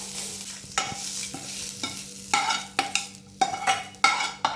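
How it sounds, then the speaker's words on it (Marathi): Coriander, cumin, cloves and pepper dry-roasting in a pan without oil for a mushroom xacuti, with repeated scraping stirs and rattling of the spices over a faint crackle, close and fairly loud, no voices. "त्यामध्ये आपण कोथिंबीर, जिरं, लवंग आणि मिरी घेतले ना, त्याच्यातच भाजून घ्यायचं, तेल घालायचं नाही"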